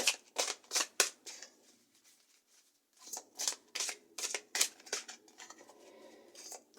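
A deck of tarot cards being cut and shuffled close by, quiet papery riffles and slaps in irregular bursts with short pauses, no talk.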